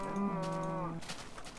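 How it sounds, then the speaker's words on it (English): A single drawn-out cow moo from Minecraft, a tonal low call lasting about a second, moderately close, followed by quiet background with no talk. "I got lots of cows."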